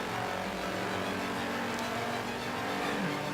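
A racing car engine in Forza Horizon 3 drones steadily and loudly throughout, with a continuous mechanical hum and faint tire noise underneath.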